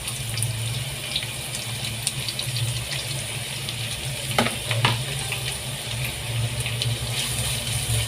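Sliced garlic frying in a pan for chicken fried rice, giving a steady close sizzle with a low hum beneath and a couple of brief scraping clatters midway.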